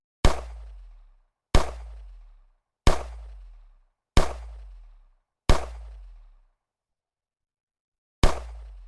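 Enemy gunfire in a homemade Unity 3D shooter game: six loud, sharp single shots, each with a booming low tail, spaced about every 1.3 seconds with a longer pause before the last, no talking.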